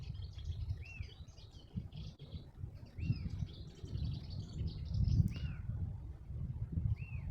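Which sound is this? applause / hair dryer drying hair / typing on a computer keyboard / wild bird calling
wild bird calling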